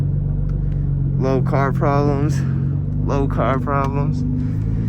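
A Nissan GTR R35 with a modified exhaust drones with a steady low rumble from inside the car while someone talks loudly over it.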